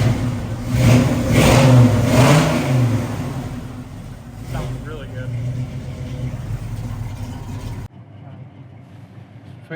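A 1972 Chevrolet Nova SS V8 fires up and revs, giving a loud burst of engine roar early on that settles into a lower running rumble before cutting off abruptly near the end.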